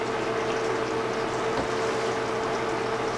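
Pork belly humba with vinegar and banana blossoms simmers in its braising liquid, a steady bubbling burble with a constant hum behind it and no talk.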